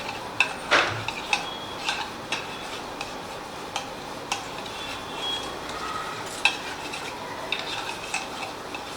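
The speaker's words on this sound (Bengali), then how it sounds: "জল দিয়ে মশলাটাকে খুব ভালো করে গুলে নেব।" A spoon stirs spice paste and water together in a bowl for a vegetarian doi potol (pointed gourd in yogurt) dish. Soft swishing runs under scattered light clinks and ticks of metal against the bowl, quiet and close, with no talking.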